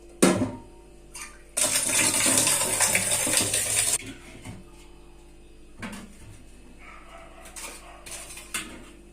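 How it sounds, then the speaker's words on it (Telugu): Drumstick leaves washed in water, a sharp clink followed by a couple of seconds of loud swishing splashes, then scattered softer drips and knocks nearby. "దీన్ని శుభ్రంగా దీన్ని నీళ్ళల్లో కడుక్కొని"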